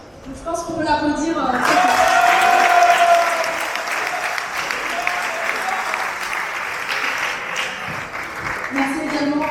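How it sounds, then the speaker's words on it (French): Audience applause for the organiser of a Jeunes LR campus gathering in Valence swells quickly into a dense, sustained clapping that stays loud for several seconds before thinning, with a voice speaking over the start and end. "Donc je pense qu'on peut l'applaudir."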